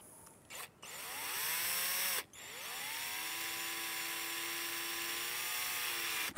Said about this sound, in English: That's either a dull drill bit.